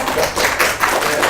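An audience claps for a guest welcomed onstage at a career mentoring talk event: a short, dense burst of many hands clapping together, steady and fairly loud.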